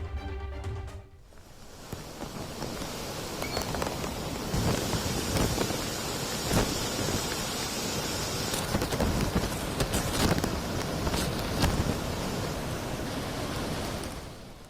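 Floodwater released through opened reservoir project gates in Telangana roars in a continuous, dense rushing wash at moderate distance, steady throughout with no voices.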